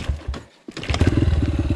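Small motorcycle engine restarting after stalling, a brief cough and gap before it catches and settles into a steady, close, throbbing idle.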